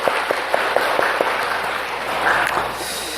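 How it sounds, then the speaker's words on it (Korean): A church congregation breaks into applause during a Sunday worship service, starting with scattered sharp claps that build into a brief, dense wash of clapping from the room. "영광의 박수를 주님께 돌리십시다."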